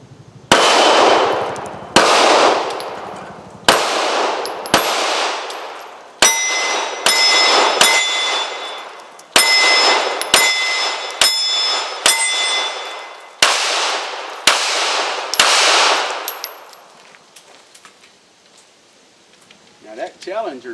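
Bullets striking a steel Challenger target on a shooting range, a series of about a dozen sharp, loud metallic clangs with bright ringing tails, spaced unevenly, then fading to quiet.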